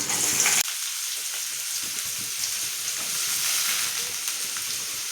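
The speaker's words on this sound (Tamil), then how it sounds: "பொடியாக நறுக்கி வச்ச வெங்காயத்தை இதில் சேர்த்துக்கலாம்" Steady, loud sizzling of finely chopped onions frying in hot oil for a cluster bean stir-fry, a dense crackling hiss with faint stirring, no voices.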